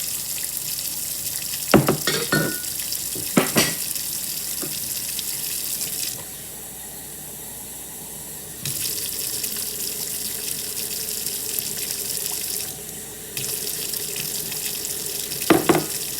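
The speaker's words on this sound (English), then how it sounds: "And some warm water." Warm water pours from a kitchen tap while meatloaf is being mixed, a continuous rushing splash that stops twice for a few seconds, with a few clattering knocks and bumps at the start and end.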